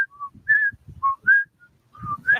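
Several short two-tone whistles, a low note followed by a higher one, repeat in a quick, steady rhythm, imitating the chirping call of the Puerto Rican coquí frog up close.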